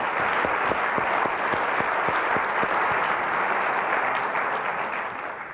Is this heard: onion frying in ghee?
no